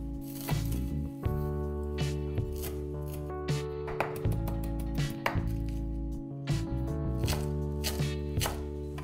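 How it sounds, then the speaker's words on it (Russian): Carrot rubbed on a fine grater, a series of repeated rasping strokes in an uneven rhythm, close and fairly loud, with steady tonal background music underneath and no talking. "Натереть морковь на мелкой терке."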